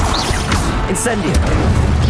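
Incendio fire spell cast in Hogwarts Legacy, heard as a loud, continuous roar of whooshes and crashing impacts with sweeping swishes, under a busy mix where voices also come through.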